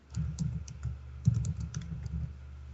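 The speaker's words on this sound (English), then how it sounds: "Typing with purpose." Fingers tap at a computer keyboard in quick, uneven bursts of light clicks, close and fairly quiet, with no talking.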